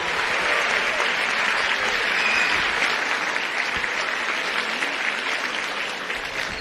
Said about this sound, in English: Round of applause for everybody that helped out today.